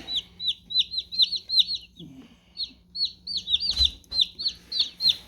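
Newly hatched baby chicks on a farm peep in quick, high, repeated chirps, close and steady, with a soft low rumble beneath and a brief background noise midway.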